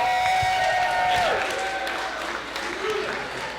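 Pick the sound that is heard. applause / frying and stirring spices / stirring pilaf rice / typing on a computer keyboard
applause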